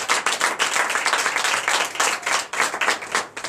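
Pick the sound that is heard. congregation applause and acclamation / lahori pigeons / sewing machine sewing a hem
congregation applause and acclamation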